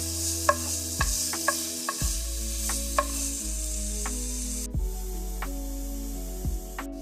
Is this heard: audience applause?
no